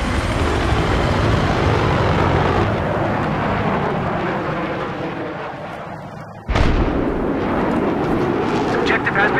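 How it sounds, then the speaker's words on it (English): An enemy plane in the video game Battlefield 3 roars loudly overhead amid battle noise, and a sharp explosion-like blast cuts in partway through. "We've got an enemy plane."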